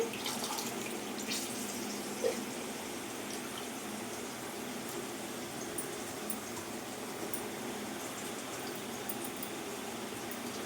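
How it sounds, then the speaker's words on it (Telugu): Tap water runs steadily in a kitchen as coriander leaves and other leafy greens are rinsed. The rushing stream is continuous and close, with one brief clatter and no voices. "అందుకనేసి మొత్తానికి వేసి శుభ్రంగా కడిగేస్తాను"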